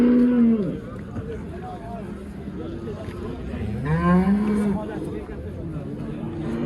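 Cattle at a busy livestock market in Rishton lowing, with a couple of drawn-out moos standing above a steady crowd murmur and people talking nearby.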